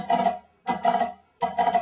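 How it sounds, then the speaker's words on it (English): Three short bursts of snare drumming separated by brief gaps, each a flam followed by a cheese rudiment, crisp strokes, close and fairly loud. "which is a flam followed by a cheese."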